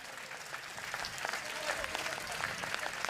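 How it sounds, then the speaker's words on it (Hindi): Audience applause rises and holds steady at a Jain religious gathering in Bhopal with Muni Pramansagar, a dense wash of many hands clapping throughout with no one speaking over it. "आप दोनों हाथ उठाकर तालियां बजाइए"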